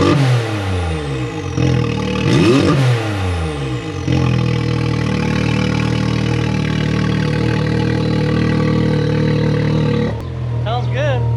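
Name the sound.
Can-Am X3 Stage 5 engine running after warm-up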